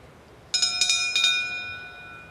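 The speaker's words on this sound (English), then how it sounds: "When the bell rings" Boxing ring bell struck several times in quick succession at a professional fight, bright ringing strikes at about half-second intervals that merge into a long sustained metallic ring slowly fading out.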